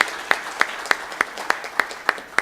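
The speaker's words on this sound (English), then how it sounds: "Let's give them all a round of applause" A small audience at a high-level dialogue on Africa gives a round of applause. It sounds like a slow, even run of distinct, sharp claps, roughly three per second, with a faint hum underneath.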